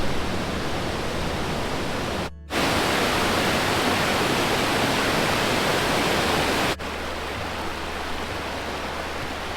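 A spectacular waterfall roars steadily in a gorge at Bardenas Reales, Spain, a loud continuous broadband rush with two brief dropouts partway through.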